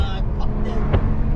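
A 600-horsepower Stage 2 turbocharged 2020 BMW M340i engine revs and surges in a sustained roar in sport plus mode, with voices talking over the steady motor noise inside the car.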